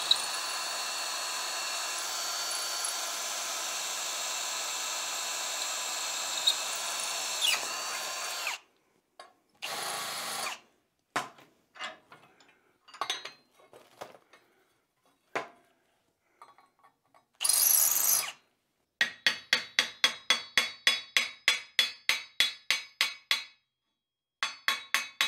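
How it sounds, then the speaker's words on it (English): A power drill whirs steadily for several seconds drilling a rivet hole in a fireplace shovel, then short bursts of tool noise follow, ending in a quick run of rhythmic metallic taps. "Make sure everything is straight and in line before you drill for this second rivet"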